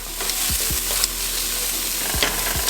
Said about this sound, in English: And this is raw cabbage, so I'm letting it cook.